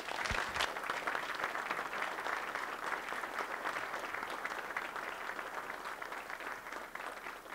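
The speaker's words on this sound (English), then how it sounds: "So please join me in a round of applause for Dave." Loud, dense audience applause fills the whole stretch at a distinguished speaker series event, welcoming a speaker to the stage with steady, unbroken clapping from a sizeable crowd.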